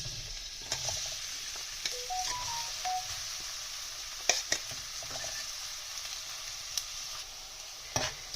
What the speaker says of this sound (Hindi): कढ़ाई में हम ऑयल डालेंगे। उसके बाद हम इसमें चॉप किया हुआ प्याज डालेंगे पहले।